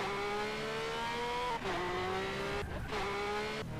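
Lamborghini in GTA San Andreas driving with a steady loud engine tone that climbs through gears, brief drops as it shifts, close and alone.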